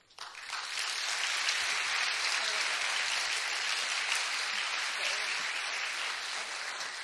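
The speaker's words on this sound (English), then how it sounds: "Let's give a big round of applause again for Mallory and her court for the 2013 Strassenfest" A pageant audience at the Miss Strassenfest gives sustained applause for the outgoing queen and her court, a steady, moderately distant roar of clapping that swells in quickly and holds even to the end.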